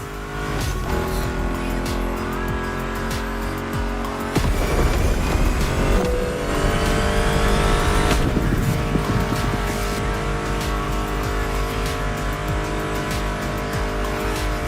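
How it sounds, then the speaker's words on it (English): Muscle car engines roar in The Crew Motorfest racing game, a loud continuous drone with rising revs and brief tire squeal, blended with a music track throughout. "Meshes well with the sound of the engines"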